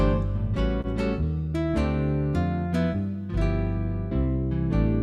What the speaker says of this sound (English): if I just turn on my traditional guitarist, it's going to give me a jazz guitar player